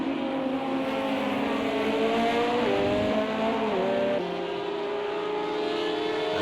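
LMP race cars in sim racing on wet Monza, engines droning steadily with rising and falling pitch as gears shift, a close continuous whine over a hissing background.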